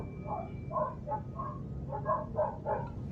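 Dogs bark in a string of short, muffled yaps with a loose, repeating rhythm, sounding faint and somewhat distant over a low background rumble, without any speech.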